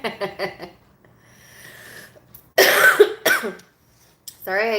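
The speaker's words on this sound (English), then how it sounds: "Sorry I keep coughing." A woman coughs several times in short bursts, with throat clearing and a few breaths between, close and fairly loud, alongside brief talk.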